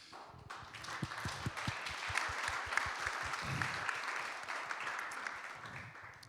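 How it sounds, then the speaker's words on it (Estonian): Audience applause at a missions conference café gathering, dense steady clapping from a room of people lasting several seconds, with some individual claps standing out near the start. "Aplaus tööandjale."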